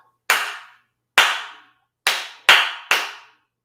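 A senior community music class claps together on cue: five sharp, unison group claps with silence between them, the last three coming closer together in quick succession.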